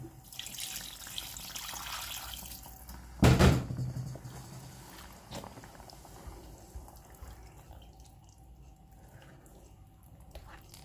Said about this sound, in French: J'ajoute encore encore l'eau.